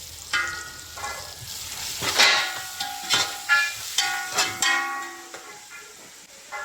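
Sliced onions frying with salt in a pan for mutton kulambu, a steady close sizzle broken by several sharp stirring scrapes and clanks of a spoon against the pan.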